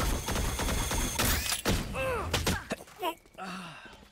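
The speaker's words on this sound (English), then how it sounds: "They shot me through my wall." Gunfire in the Valorant shooter game punches through a wall, a rapid volley of loud sharp shots with thuds, followed by a pained groan and a sigh.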